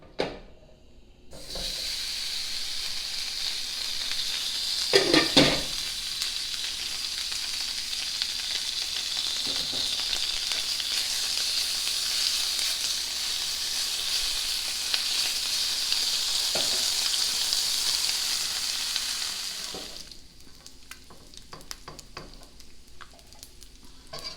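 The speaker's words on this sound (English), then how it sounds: "we're going to cook them on low or medium low until the bacon is crisp" Bacon and cabbage fry in a pan on low to medium-low heat, giving a steady, even sizzle that runs for about twenty seconds, with a few handling knocks early on before it quiets abruptly.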